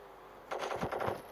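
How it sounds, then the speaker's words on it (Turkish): Gunfire in a superhero video game, a short rapid burst of several automatic shots after a brief quiet moment, fairly loud and close. "Dur bir silahla vurayım"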